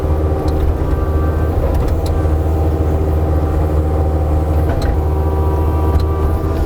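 The engine of a Kubota KX057 excavator runs steadily at a low, even idle throughout, close and loud, with faint clanks on top and nobody talking.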